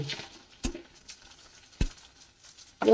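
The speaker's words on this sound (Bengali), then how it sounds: "ফ্রাই করে নিচ্ছি। ছোট বড় সবই তো ফ্রাই করতে হবে" Giant freshwater prawns frying in a pan, with a soft sizzle broken by two sharp pops or taps and a louder burst of spatter at the end, close and without talk.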